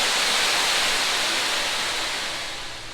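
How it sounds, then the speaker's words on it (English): An ocean drum filled with tiny balls, tilted so they roll and rattle against the inside, gives a steady, loud, hissing wash like surf that fades slightly toward the end, with no voices. "The little balls move around and they rattle against the inside of this drum, and it creates this really nice ocean sound"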